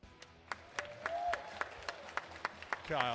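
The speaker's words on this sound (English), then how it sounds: "just giving a big round of applause for everybody here today" Scattered clapping from a small crowd at strongman competition awards, with distinct individual claps spaced through the moment and a faint voice or whoop rising near the end.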